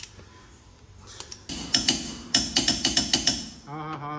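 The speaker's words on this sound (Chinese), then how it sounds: "我们先给它上个90度，用这个扭力扳手" A torque wrench tightens the large wheel bearing nut on a Volkswagen, giving a run of sharp, evenly spaced metallic clicks that grow louder and come close, followed by a brief ratcheting rattle, with no talking.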